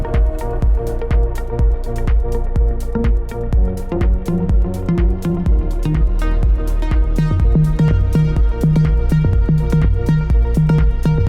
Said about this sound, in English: it's basically an 808 clone